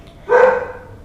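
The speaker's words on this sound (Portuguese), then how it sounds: "A cachorra não tem jeito." A single short dog bark rings out close by indoors, loud and alone, with faint room noise around it.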